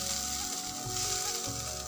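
Boiled potatoes fry in a pan at home, giving a steady, close hiss and crackle of hot oil with faint stirring, without any voices.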